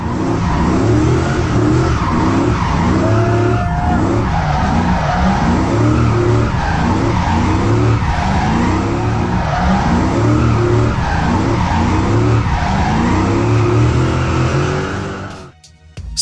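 A car in a stunt drive balanced on two side wheels, its engine roaring loud and pulsing with revs while tyres squeal and skid almost continuously before it cuts off near the end.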